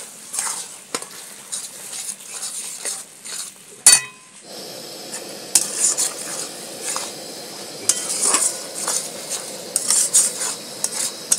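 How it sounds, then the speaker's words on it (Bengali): Ground spices and a splash of water being stirred and sautéed in a pan for a Bengali prawn curry, with soft sizzling under repeated metal spoon scrapes and clinks against the pot, one sharp knock partway through. "গুঁড়ো মশলা দিয়েছি বন্ধুরা, তাতে একটু জল দিচ্ছি, দিয়ে এবারে ভালো করে কষে দেবো।"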